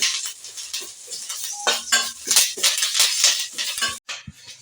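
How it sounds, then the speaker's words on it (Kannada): Curry leaves fry in a little oil in a pan with a busy, crackling sizzle, broken by scraping and clinking of a spoon stirring against the pan. "ನೋಡಿ ಇವಾಗ ಕರಿಬೇವು ಚೆನ್ನಾಗಿ ಫ್ರೈ ಆಗ್ತಿದೆ"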